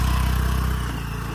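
Off-road motorbike engine labouring steadily up a hill, a loud close mid-pitched drone with a regular low thrum that eases slightly toward the end.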